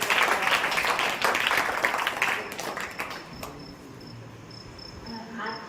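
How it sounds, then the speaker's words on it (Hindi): A seated audience at a religious study gathering at a vidyapeeth claps loudly for about three seconds, a dense burst of applause that tapers off into a quieter room with faint chirping. "जोरदार तालियों के माध्यम से"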